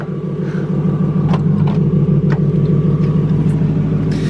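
A Lexus LS400 pulls off for a short drive, its engine giving a steady, loud low rumble with a throbbing pulse, plus faint ticks and knocks from the car.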